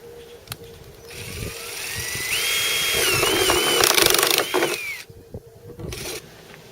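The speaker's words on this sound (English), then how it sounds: "I'm using a step drill bit to punch the hole." A power drill with a step drill bit bores a hole, starting as a low rumble before a whining, wavering bite through the material, then winding down with a few clicks.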